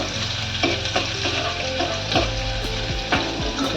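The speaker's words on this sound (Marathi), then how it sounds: "आता कांदा घालूया फोडणीचा" Sliced onion sizzles loudly in hot oil for an Indian tempering for onion amti, crackling steadily while it is stirred, with scraping clatters of the spoon against the pan.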